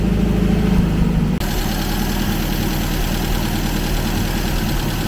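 A motorcycle engine with freshly readjusted carburetors idles steadily and loudly up close, its low throb continuing unbroken after a brief change in tone near the start.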